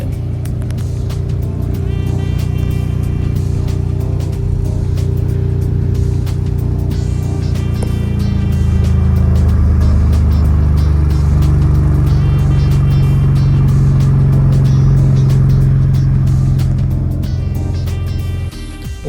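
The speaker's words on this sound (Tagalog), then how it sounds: "so ito yung tunog ng exhaust, check natin." A deep, steady exhaust rumble from a Ford Raptor pickup truck idles continuously, with a couple of rising revs in the middle, close and loud throughout.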